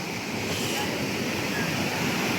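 Loud, continuous rushing water from Kilangin Falls in Majayjay, Laguna fills the whole clip, a steady roar of heavy flow close by with no breaks.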